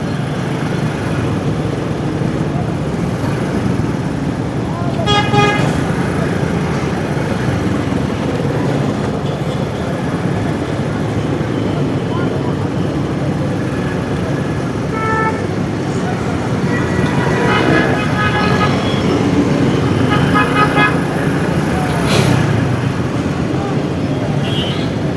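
A heavily jammed road beside Red Line construction and bridge work runs from NED toward Safoora, with a loud, continuous roar of engines and traffic. Several car horns honk, in a short burst near the start and a cluster of toots later.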